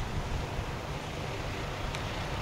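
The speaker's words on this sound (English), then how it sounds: "Trash cans blowing in the wind." Strong wind roars steadily through a park during a 2011 Pasadena windstorm, buffeting the microphone in a dense, unbroken rush with no voices.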